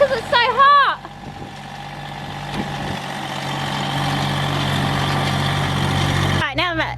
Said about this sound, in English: my husband has moved the tractor out the way and the noise is gone